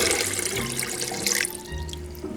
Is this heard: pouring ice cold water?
yes